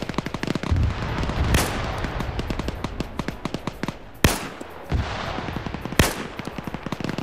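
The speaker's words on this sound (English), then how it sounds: "Now he's taking fire. You can hear the bullets whizzing over." Rapid gunfire crackles through a PvP video game match, with dense bursts of shots and several sharp, loud cracks standing out over the steady fusillade, no talk.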